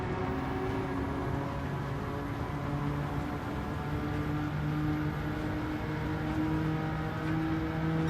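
A race car engine in the video game Gran Turismo 7 revs continuously while cornering in third gear, a steady droning whine with pitch slowly climbing, loud and unbroken throughout.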